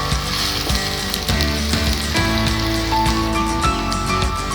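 Turmeric cooks in a pan for an arvi (taro root) masala curry, producing a continuous frying sizzle that sits under prominent background music.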